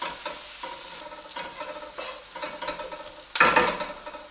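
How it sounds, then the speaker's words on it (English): Lamb pieces browning in a hot pan for rogan josh, stirred with a utensil: a steady sizzle under repeated scraping strokes, ending in a louder burst of frying. "So we want to brown these off for around about 3 to 4 minutes"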